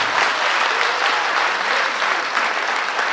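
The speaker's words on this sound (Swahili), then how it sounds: "Appreciate the bishop kwa makofi. Salute him kwa makofi jameni." Steady applause for a bishop at a memorial gathering fills the whole stretch, dense and even with no break or talk over it.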